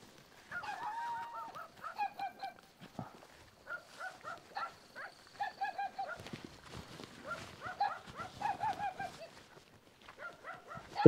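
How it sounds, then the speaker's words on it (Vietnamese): Several dogs in a rural forest area of Vietnam, barking and yapping in repeated choppy bursts, fairly close and spread over the whole stretch. "cả nhà mình xem có những bé chó la làng."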